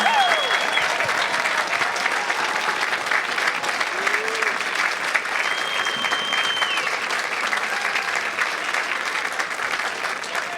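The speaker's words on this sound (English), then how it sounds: "Let's give them a round of applause." Sustained applause from a large commencement crowd honoring Marian University's 2021 associate and bachelor graduates, dense continuous clapping with scattered cheers and whistles, loud and steady for over ten seconds.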